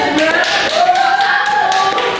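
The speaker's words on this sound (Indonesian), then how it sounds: "Coba beri tepuk tangan untuk kelompok ini." Students in a primary school classroom clapping for a group, quick close taps and claps over a noisy room with overlapping voices.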